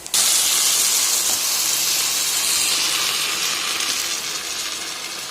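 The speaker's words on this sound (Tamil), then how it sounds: "இப்போ மசிச்சு வச்சுருக்க உருளைக்கிழங்கும் பருப்பும் இதில் ஊற்றிக்கலாம்." Mashed potato and lentils go into a pan of hot cooked onions for Kumbakonam kadappa sambar. A loud, close hiss bursts out suddenly and slowly fades.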